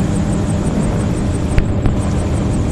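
A gyrocopter engine drones steadily in flight, loud and continuous throughout, with a couple of brief clicks near the end.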